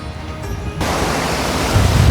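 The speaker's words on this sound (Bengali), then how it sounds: "এত জোরে জোরে সমুদ্র ঢেউ আসতেছে" Heavy surf from the Bay of Bengal pounds a beach at Guliakhali near Sitakunda, a dense, loud, continuous wash of crashing waves that thickens and swells toward the end.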